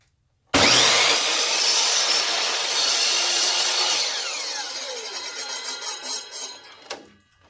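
A handsaw cuts through a wooden board as a test cut for making yard dice, with steady, loud back-and-forth rasping strokes that slow and fade toward the end before a final scrape.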